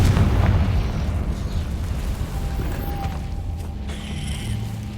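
Confringo blasting spell going off in Hogwarts Legacy, a heavy explosive boom with rumbling low end that decays into a sustained crackling, debris-filled roar, loud and close with no talking.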